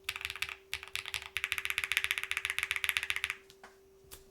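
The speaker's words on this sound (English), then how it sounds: "I don't think this is deterring from the keyboard sound at all" Fast typing on a Lucky65 v2 mechanical keyboard with a Boomerang build, a rapid run of crisp, close keystrokes in bursts that stops, followed by a couple of isolated presses, with a steady faint hum underneath.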